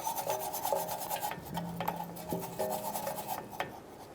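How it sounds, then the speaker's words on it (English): A wire brush scrubs rust from a parking brake bracket on a 2014-2018 Chevrolet Silverado 1500, giving a close, steady rasping rub in short strokes with faint metallic squeaks over about four seconds, with no talking. "You can also go in with a wire brush and clean up any of the rust that's building up under it."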